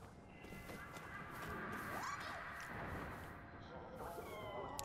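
A cat meows a few times in the video game Nioh 2, against a quiet, echoey game ambience with faint background noises.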